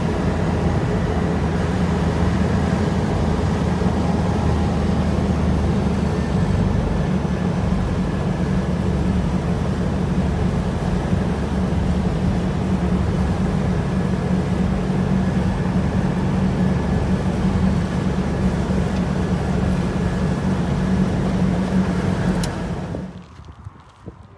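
A car cruises through busy Seville traffic with a steady, loud road and engine rumble that runs unbroken for over twenty seconds, then cuts off abruptly at the end, with no voices.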